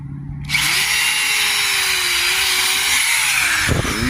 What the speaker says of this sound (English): You just simply drill.